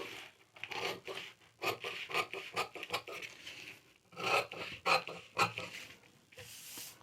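Paper for a 28-inch blouse pattern being cut along marked seam allowances, giving soft close-up rasping and rubbing scrapes in uneven bursts, with no talking.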